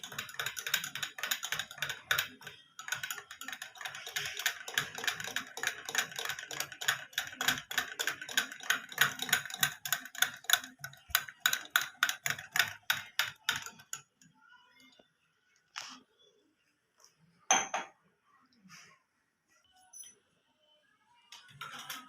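Gram flour batter is stirred briskly with water in a bowl, giving a fast, even run of clicking taps for about fourteen seconds before it thins to a few scattered knocks.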